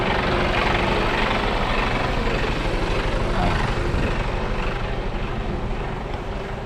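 A Mercedes Actros truck with double trailers runs a loud, steady engine drone with a constant low rumble throughout, close by, easing slightly toward the end as its trailer is lifted.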